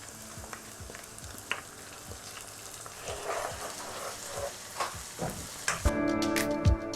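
Onions that have turned light brown frying in a pan for a Pakistani capsicum keema, with ginger garlic paste added; a steady close sizzle with scattered crackles and stirring taps, growing louder and brighter toward the end.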